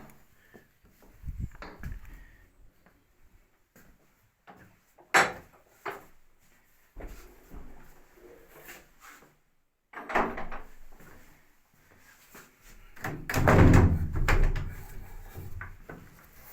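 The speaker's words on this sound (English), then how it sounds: "This is the door." A heavy wooden church door is handled, with scattered knocks and clunks, a pause, then a louder scraping, rumbling stretch as it swings and settles, close and irregular with no speech.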